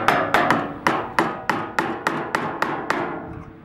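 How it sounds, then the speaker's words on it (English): Sharp metallic hammer blows strike the back of a flathead screwdriver wedged against a tab on a Radio Flyer wagon hubcap, about a dozen evenly spaced close, loud strikes in steady rhythm with no talking. "Place the flathead screwdriver right at the base of the tab and hammer the back end so that you pull the tab away from the axle."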